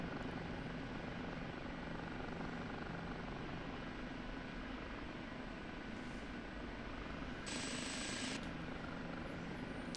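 An OH-58D Kiowa Warrior helicopter in DCS climbs with a steady, dense rotor and engine roar throughout and a brief higher whine near the end. Alone, with no talk.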